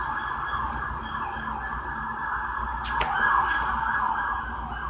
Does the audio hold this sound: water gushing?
no